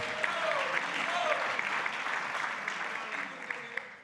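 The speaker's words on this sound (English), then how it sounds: "So round of applause" An audience claps steadily for several seconds, a dense wash of applause that slowly fades toward the end.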